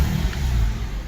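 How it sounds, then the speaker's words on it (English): A car engine running at a steady, low idle rumble, close and continuous for a brief moment with no voices. "But when I turn the engine on"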